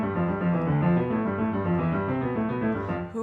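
Piano playing a Hanon finger exercise with high, lifted fingers, giving steady, evenly repeated running notes that sound mechanical and unshaped, close and moderately loud with no voices.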